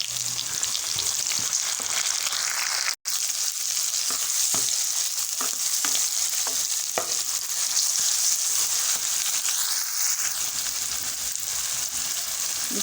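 Tomatoes go into onions and garlic frying in a pan for potato gobhi, giving a continuous close sizzle with scattered stirring clicks and one brief dropout near the start.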